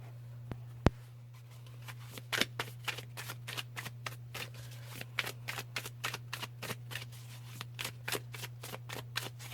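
Tarot cards from an Everyday Witch deck are handled and laid down for a spread, soft irregular slaps and rustles of card stock over a steady low hum, close and quiet.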